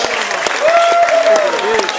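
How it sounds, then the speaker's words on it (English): Crowd applause with dense clapping throughout at a tiger show at Dreamworld's Tiger Island, while a voice speaks over it. "let's give him another round of applause"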